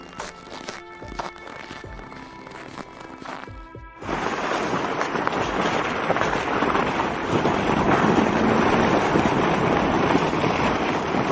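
A sled rushes over snow in a loud, steady hiss of sliding noise, after a few seconds of quieter scraping and rattling.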